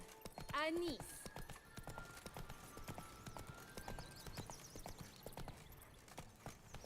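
Galloping horse hooves in The Witcher 3 video game, a rapid, steady clip-clop rhythm running throughout, with a brief whinny near the start and someone speaking over it.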